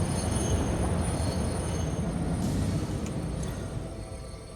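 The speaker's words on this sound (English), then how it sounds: "Which train is this? This is my sulfur car." A freight train hauling a sulfur car rolls along in the game Satisfactory with a loud, continuous rumble and faint high wheel squeal. It fades slightly toward the end, and no one talks over it.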